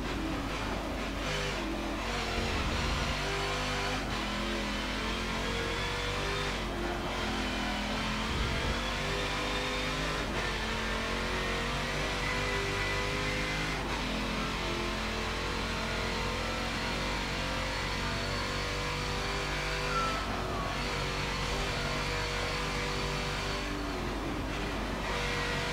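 A race car engine in Forza Motorsport 7 drones steadily through a long race of laps, revving and shifting with a constant close motor roar and occasional passing surges, with no talking.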